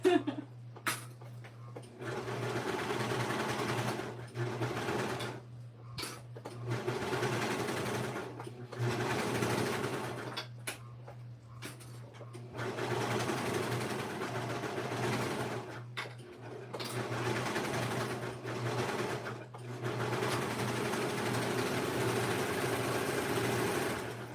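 A home sewing machine stitches a kid's dress, running in repeated whirring bursts of a few seconds each with short pauses between, close and steady over a low background hum.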